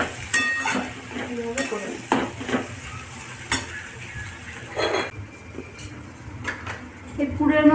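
A spoon scrapes and stirs potato filling for aloo paratha in a frying pan, with irregular clinks and scrapes over a soft sizzle while someone speaks briefly.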